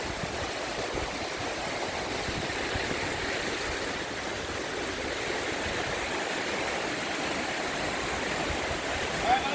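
A roaring river swollen by rain gives a loud, dense, continuous rushing wash that stays steady throughout, close and enveloping.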